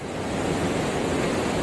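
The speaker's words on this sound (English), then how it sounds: "we're down at the river now" River water flows under a bridge on the River Wharfe in the Yorkshire Dales, heard as a steady, full rushing wash with a little wind, close and continuous.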